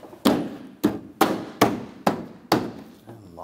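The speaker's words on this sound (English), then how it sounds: "On the sides, you want to push it in into the clips." A bumper cover is pushed into its side clips on a 2011-2015 Chevy Cruze during radiator fan work. Six sharp, close thumps and snaps land at an uneven pace over a few seconds.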